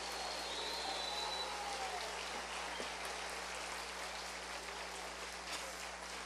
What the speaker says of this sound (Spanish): Usted, yo creo que le puede aplaudir más fuerte al Rey de Reyes.